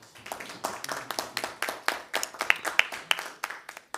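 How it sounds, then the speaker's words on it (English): Audience applause at a government press conference on agriculture, a steady patter of many hands clapping fairly close, continuing for several seconds without a break. "I think we deserve a round of applause for that."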